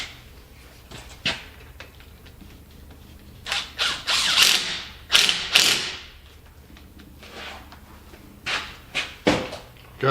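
An impact wrench rattles bolts tight with a copper washer on a Jeep, sounding as short ratcheting bursts of varying length, close up, separated by pauses and a few clunks.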